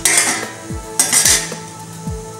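Metal clanks and scrapes as a lid goes onto a pot of raw papaya cooking on a low flame, several sharp close knocks with ringing tails and no talk.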